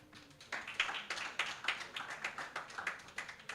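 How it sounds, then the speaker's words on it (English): Audience applause at a technology-for-good hackathon: a crowd claps together in a steady, rhythmic patter of sharp, bright claps, moderately loud and sustained without any talking. "So big round of applause for yourselves."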